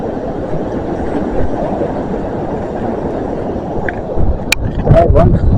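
A passenger train bound for Edinburgh from Plymouth passes along the line at Dawlish, a steady loud rumble of rail noise throughout that swells slightly near the end, with brief chatter over it.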